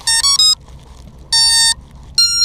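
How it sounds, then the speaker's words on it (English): Three loud electronic beep bursts of several tones sounding together from a drone's ESCs, each lasting about half a second, separated by short gaps over a low hum. "They'll all beep at the same time"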